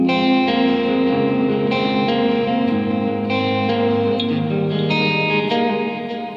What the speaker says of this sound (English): The other guitar player is playing this.